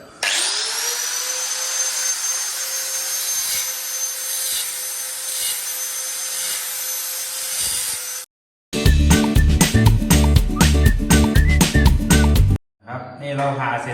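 A 4-inch angle grinder fitted with a thin cutting disc cuts iron, whining at a steady high pitch for several seconds; after a short break, rapid rough pulsing grinding follows, loud and close.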